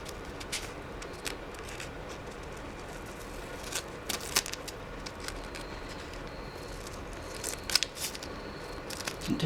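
Scissors cutting through thick fabric for covering a hardback book, sparse faint snips and crackles over a steady low background hiss.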